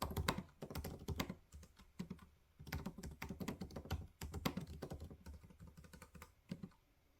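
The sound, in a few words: typing on a computer keyboard while writing a novel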